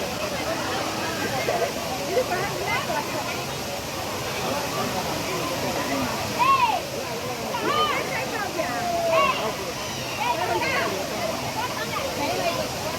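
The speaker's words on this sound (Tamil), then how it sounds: "பஞ்சலிங்க அருவி, திருமூர்த்தி மலை." Panchalinga waterfall in the Thirumoorthy hills roars in a steady broadband rush, with people talking and calling out faintly in the background.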